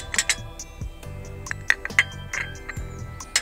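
Porcelain dishes with gold trim, including a cake plate and saucer, clink and tap as they are set together, a string of sharp close chinks with soft knocks between them.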